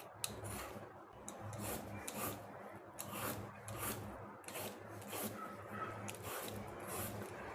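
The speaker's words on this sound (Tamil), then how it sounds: "மேல் தோல் சீவினா போதும்," Raw plantain having its outer skin peeled with a knife, soft repeated rasping scrapes in a quiet kitchen, close and faint.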